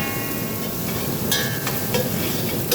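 Sliced onion and rampe leaf sautéing in a pan for Sri Lankan chicken curry, a constant close sizzle with a few sharp scrapes of a spoon stirring, no voices.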